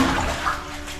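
Water sloshes and churns loudly and close up as a river is waded through on a muddy outdoor trek. It is a brief, continuous rush of splashing with no speech.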